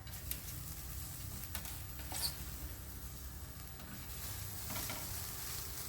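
Chopped fenugreek leaves hit a hot pan and sizzle, a faint, steady frying hiss with a few soft stirring scrapes and no talking.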